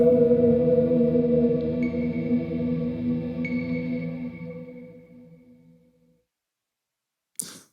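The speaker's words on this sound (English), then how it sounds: "while it's called reverse reverb, that's kind of a misnomer because really it's more of a swelling echo" A sustained, echoing tone swells and washes over itself, then slowly fades into silence before a brief sharp click at the end.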